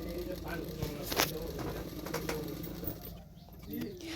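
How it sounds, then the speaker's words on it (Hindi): A sewing machine stitches along the edge of a blouse neck lining, a fast rapid whirring rattle heard up close under a running voice, easing off briefly near the end. "किनारे किनारे पे एक सिलाई कर दिया और एक सिलाई कर दूंगी किनारे किनारे पे"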